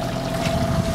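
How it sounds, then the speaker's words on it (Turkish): A sailboat's engine idling steadily aboard at sea, a constant low drone with a steady hum and wind noise over it, close and continuous. "Motoru rölantide çalıştırıyoruz."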